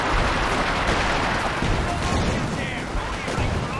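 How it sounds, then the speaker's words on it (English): Mortar fire in a Company of Heroes 2 match, a dense rumbling barrage of thuds and blasts sustained under a commentator's voice. "he's got mortar cover coming down now"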